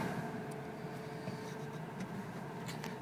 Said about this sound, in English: let's roll down the window and listen to the motor here. It's a really quiet truck.